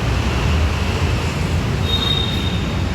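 A metro train at a station, a loud, steady close rumble of rolling wheels with a thin high squeal rising partway through, no voices.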